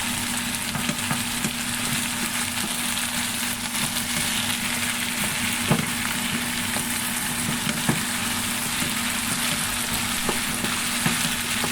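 Sliced potatoes stir-frying in a hot pan, a dense continuous sizzle with occasional clicks and scrapes of stirring, close and loud over a steady low hum, no voices.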